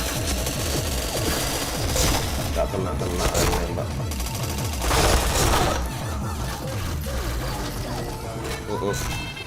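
Rapid gunfire in the PointBlank shooter game, with dense bursts of shots and impacts running continuously at high level, with a voice talking over them in places.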